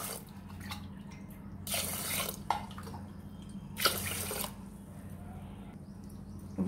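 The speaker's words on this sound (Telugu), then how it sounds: "ఇప్పుడు 4 కప్పులు అయినాయి కదా రైస్ పెసరపప్పు ఇది 8 పోయాలి" Water poured into a pot of rice and green gram dal, a couple of brief splashy gushes over a steady low hum, fairly close and moderately loud.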